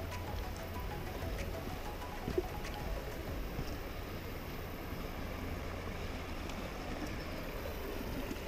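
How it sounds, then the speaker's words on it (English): Rapids on the Chattahoochee River at the Palisades, a steady broadband rush of water over rocks heard at moderate distance, continuous and even throughout with no voices. "Let's go check out these rapids."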